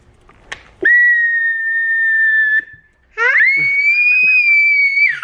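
A child blows two long, loud whistle blasts, each held steadily for a couple of seconds with a short gap between, preceded by faint voices.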